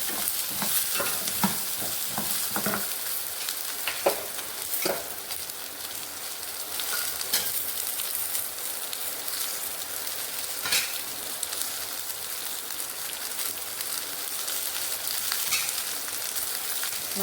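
Pirandai (adamant creeper) and asafoetida sauté in hot oil in a pan, a soft continuous sizzle with scattered scraping stir clicks throughout, close and even.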